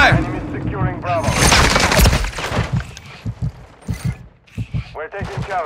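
Gunfire in the video game Call of Duty Modern Warfare III, in a Domination match on the Highrise map in New York City: loud bursts of automatic fire followed by spaced single shots, with game voice callouts over the shooting.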